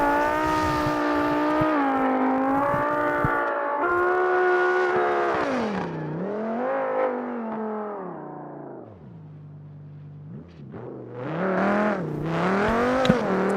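A video game Formula 3 race car engine roars and revs continuously, pitch climbing and dropping through gear shifts, with a brief lull before accelerating again; no talking.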